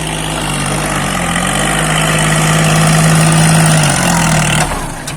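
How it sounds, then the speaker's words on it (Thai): A farm tractor's engine runs steadily while it digs out a fish pond. The loud, even drone holds a low hum close by, swells slightly near the end, then eases off. "ใช้รถไถดันเอาเลยเขา"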